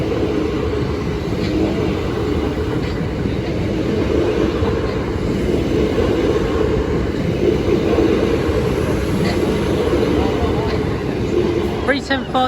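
Train crossing St Dunstans level crossing in Canterbury on its way to Ramsgate, a steady loud rumble of wheels and carriages running throughout, with a brief sharper clatter near the end.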